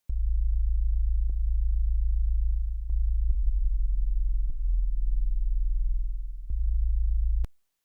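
A deep sub-bass tone meant to drive subwoofers in a beat, a steady low hum sustained throughout and broken by a few brief clicks at note changes, ending abruptly.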